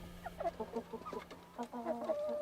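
Chickens cluck inside a chicken coop, a faint run of short, irregular clucks and murmuring calls from a few birds over a low steady hum, ending in a longer drawn-out note.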